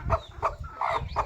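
Chicks and chickens cluck in short bursts while feeding in the morning, four quick close clucks in a row.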